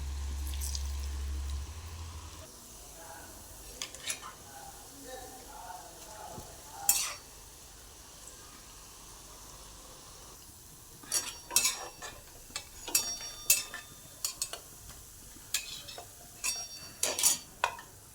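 Onion bhaji with ginger, garlic, coriander and curry leaves frying, a faint continuous sizzle broken by clinks and scraping stirs, busier and louder in the later half.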